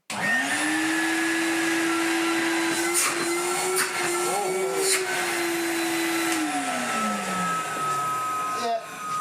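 A corded commercial vacuum cleaner motor runs steadily with a clear high whine, close and loud, pitch dipping near the end as it winds down.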